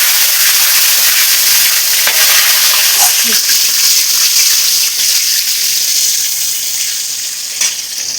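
Tomatoes frying in hot oil with cinnamon, cloves, cardamom, bay leaf and dried chilli for chicken biryani, a loud continuous sizzle with faint stirring clinks, no voices.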